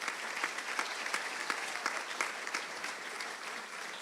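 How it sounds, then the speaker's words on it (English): A high school awards audience applauds honor society inductees, with steady, moderately loud clapping and individual sharp claps standing out over a continuous wash of hand noise. "Please give them a round of applause."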